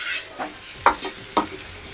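Onion and spices sizzle and fry in a pan while a utensil stirs and scrapes through them, with a couple of sharper scraping strokes standing out over the steady hiss.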